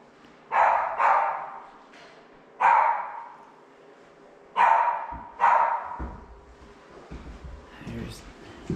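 A dog barks indoors in a house in short bursts, about five sharp barks spaced across several seconds, fairly close and moderately loud, with quieter background noise between them.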